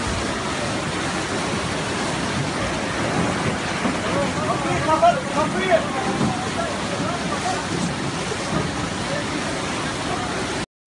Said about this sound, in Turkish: Yokuşbaşı istikametinden gelen yoğun yağmur sularının caddeyi tamamen sular altında bıraktığı görülüyor